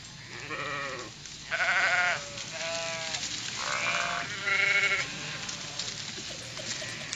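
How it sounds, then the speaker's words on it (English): Sheep bleating at night, picked up by a trail camera fixed on the flock: several separate bleats, some overlapping, fairly close over a low steady background hiss. "I found a video of a man who has a trail camera that he's got fixed on his sheep to keep an eye on them at night."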